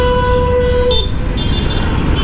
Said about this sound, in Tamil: ஹாரன் வந்து கொஞ்சம் லவுடாக இருந்தால் நல்லா இருந்திருக்குமோன்னு தோணுது